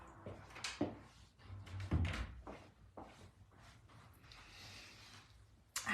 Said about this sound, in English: I'm just going to close the door